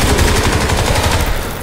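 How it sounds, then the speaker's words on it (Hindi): Rapid automatic gunfire in Crysis 3, a fast, evenly spaced rattle of loud shots that runs without pause and fades slightly at the end. "नीचे फायर हो रही है।"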